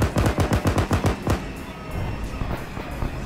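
Heavy machine gun in the military video game Arma 3 fires a rapid burst of about ten close, loud shots over roughly a second and a half, then a rumbling tail of echoes and distant battle noise.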